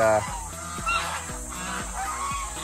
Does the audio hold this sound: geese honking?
yes